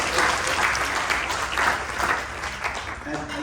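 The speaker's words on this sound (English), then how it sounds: "Give them all a big round of applause," Steady, dense applause from a temple audience after a bhajan performance at a Hindu mandir, a continuous wash of many hands clapping at moderate volume throughout.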